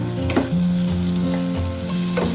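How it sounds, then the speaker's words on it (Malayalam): Apple pieces sautéing in ghee sizzle steadily in a pan, a continuous close frying hiss with a few stirring scrapes and no talking. "അതുവരെ നമ്മളിതിങ്ങനെ നെയ്യിൽ വഴറ്റിക്കൊണ്ടിരിക്കണം"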